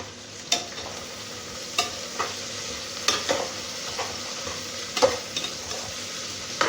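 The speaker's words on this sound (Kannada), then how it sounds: "ಈಗ ಈರುಳ್ಳಿನ ಚೆನ್ನಾಗಿ ಫ್ರೈ ಮಾಡ್ಕೊಳ್ಳೋಣ." Chopped onions fry on a high flame for vangi bath, with a soft steady sizzle broken by occasional sharp scrapes of a stirring spoon against the pan. The sound is close and no one talks.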